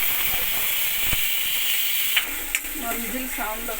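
Eggs sizzle and hiss steadily in a hot frying pan, with a couple of sharp cracks and small clicks breaking through the constant frying noise near the end.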